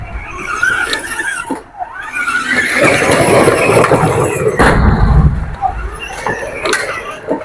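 A remote-controlled toy 4x4 jeep drives along, its small motor whirring and squealing with shifting pitch, while someone talks over it.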